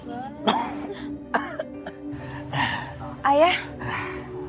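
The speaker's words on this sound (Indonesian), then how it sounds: "Ayah kok batuk-batuk terus sih?" A man coughs and clears his throat several times in short, rough bursts with pauses between, close and fairly loud.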